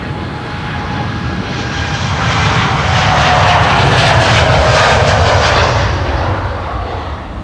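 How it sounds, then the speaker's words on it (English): A KLM Embraer 190 jet departing Amsterdam Schiphol Airport for Oslo, its engine roar swelling steadily to a loud, broad peak as it passes close by, then easing slightly, heard alone without voices. "Next after this is going to be KLM flight 1201 and Embraer 190 to Oslo."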